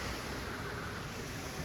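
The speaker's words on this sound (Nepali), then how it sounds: "हावा चाहिँ एकदम बढी लाग्दो रहेछ यो ठाउँमा" Strong mountain wind in Upper Mustang roars as a dense, steady rush buffeting the microphone, loud and continuous throughout with no voices.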